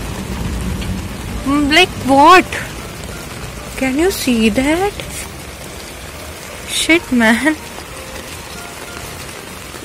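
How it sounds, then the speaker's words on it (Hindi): Heavy rain falls steadily over a terrace garden, a constant hiss under people talking in short bursts. No distinct thunder claps stand out. "ऊपर बादल गड़गड़ा रहे हैं और बारिश हो रही है."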